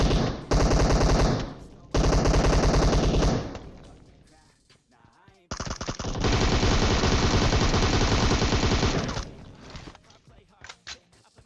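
Automatic weapon fire in the mobile battle-royale game PUBG Mobile, loud rapid bursts of shots in two long stretches with a short pause between, close and dense, with a voice faintly underneath.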